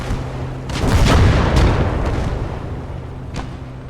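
A deep, rumbling blast as an anti-tank gun is destroyed in a World War II strategy video game, swelling quickly and then fading into a long, crackling tail.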